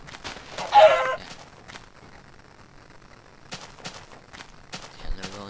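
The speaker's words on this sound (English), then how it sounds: "Chicken." A video game chicken clucks in one brief, loud burst near the start, followed by quieter game sounds and clicks.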